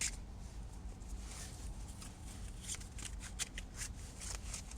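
Cards shuffled for a card reading, a soft continuous papery shuffling with light flicks, close but very faint over a low background hum.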